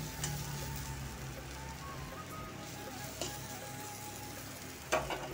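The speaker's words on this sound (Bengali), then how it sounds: "তো দেখো এখানে উচ্ছে ভাজা বসিয়েছি" Bitter gourd slices frying in oil in a pan, a soft continuous sizzle with a few light clinks from stirring, steady and close.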